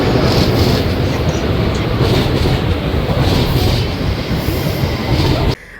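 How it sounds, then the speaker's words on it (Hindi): A Paris train rolls along with a loud, constant rumble and rattling wheel clatter that holds steady for over five seconds, then cuts off abruptly near the end. "ट्रेन आई और उसमें बैठते हैं"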